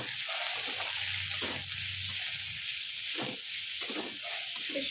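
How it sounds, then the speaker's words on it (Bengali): Carrots fry in a pan for mixed fried rice, giving a steady close sizzle broken by a few stirring scrapes. "এর মধ্যে আমি এবারে গাজরটা দিয়ে দেবো, ক্যাপসিকামটা আবার একটু পরে দেবো। আমি গাজরটা ভেজে নিই।"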